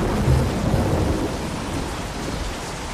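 Steady heavy rain pours down in the video game The Walking Dead while a low rumble of thunder rolls early on and fades into the downpour, with no voices.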